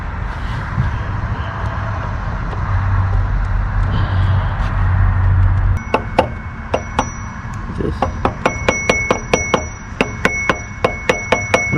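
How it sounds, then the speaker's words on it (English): A rubber mallet tapping a new A/C clutch pulley into place on a vehicle's compressor: steady background hum at first, then a quick series of sharp, close taps with a slight metallic ring over the last half. "Notice I'm using a rubber mallet."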